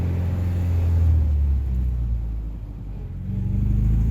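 A 1968 MGB accelerates in second gear, its engine a close, loud, steady drone that dips briefly and then pulls strongly again, with no talking over it.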